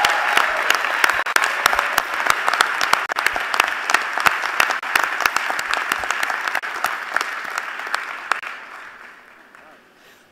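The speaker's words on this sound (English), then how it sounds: "Please give Michelangelo a round of applause." Audience applauding at a Bowie State University presidential installation ceremony, dense steady clapping throughout that fades out over the last couple of seconds.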